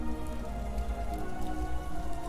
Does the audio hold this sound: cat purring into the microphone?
no